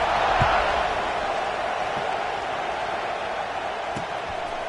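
Stadium crowd at an LSU college football game, a steady broad roar of cheering and murmur filling the space, continuous and fairly even with a few faint thumps, no distinct voices standing out.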